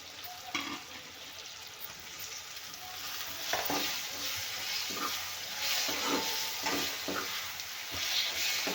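Curry leaves and tomato fry in oil for a raw banana sambar, a steady soft sizzle that grows slightly louder partway through, with intermittent spoon taps and stirring scrapes and no voices.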